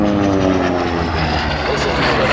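A radial-engine propeller airplane roars loud and close during an airshow loop, a throbbing, steady drone with no pauses.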